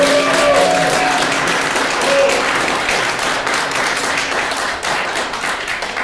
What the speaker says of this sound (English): That's the last time you should applaud so that we can respect our candidates' time.